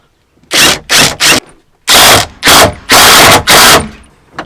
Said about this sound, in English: I have a impact wrench here, so I'm just going to use that